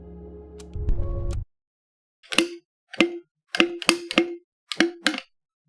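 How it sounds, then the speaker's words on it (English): A plastic bottle cap is twisted and fails to close, giving a string of sharp plastic clicks and snaps in irregular bursts, close and fairly loud. A brief hum of other sound comes before it. "That was the sound of my bottle refusing to close over and over again."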